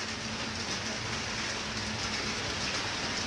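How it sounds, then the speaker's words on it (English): Heavy rain pours down in Jamaica as Hurricane Melissa hits, a dense, constant roaring hiss that fills the whole span with no voices. "The rain a come down heavier."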